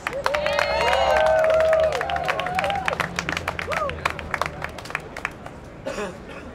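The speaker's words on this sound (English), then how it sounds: "Let's give her a round of applause." Crowd at an outdoor rally for a civilian police accountability council breaks into clapping and cheering, loud and dense at first, then thinning into scattered claps amid chatter and shouts.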